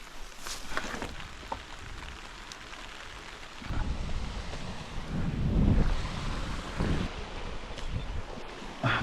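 Wind gusts across an open hill at a motorcycle campsite, a rushing roar that swells louder in the second half with buffeting bursts against the microphone and no voices.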